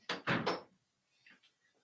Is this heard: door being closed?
yes